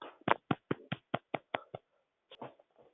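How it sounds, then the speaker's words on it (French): About ten sharp, evenly spaced claps from one person close by, followed by a short pause and a couple of softer claps. "Bravo Hugo, bravo, on applaudit."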